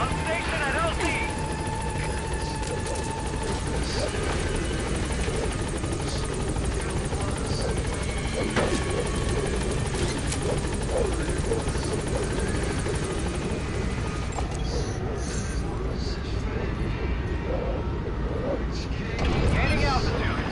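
Support helicopter arriving at a landing zone in Metal Gear Solid V, a loud constant rotor roar filling the whole stretch, with radio-style game dialogue over it.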